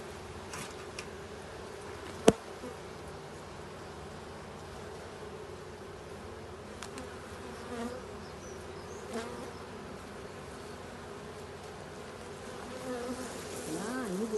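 Honey bees buzzing at a beehive during a frame inspection, a soft, steady swarm hum close by with a single sharp click partway through, no talking heard.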